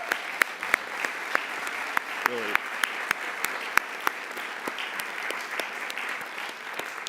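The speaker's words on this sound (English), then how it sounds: "I just want to give the ABA a round of applause for everything that they're doing" A conference audience at a legal association's general assembly breaks into a round of applause for the ABA, a full, sustained patter of clapping with a few louder individual claps and a brief spoken word over it.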